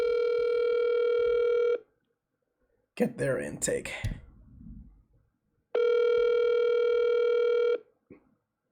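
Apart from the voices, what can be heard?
telephone dial tone while calling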